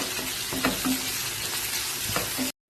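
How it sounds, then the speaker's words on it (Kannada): Tomato and onion fry in a pan for a bitter gourd gojju, a loud continuous sizzle with a few soft stirring scrapes, cutting off abruptly at the end. "ಟೊಮೆಟೊ ಮತ್ತು ಈರುಳ್ಳಿ ಚೆನ್ನಾಗಿ ಫ್ರೈ ಮಾಡ್ಕೊಳ್ಳೋಣ."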